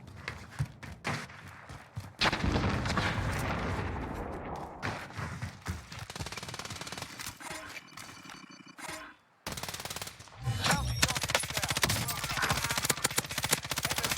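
Rapid bursts of automatic gunfire in Call of Duty Warzone, loud and continuous, with a brief break midway before the heavy shooting resumes.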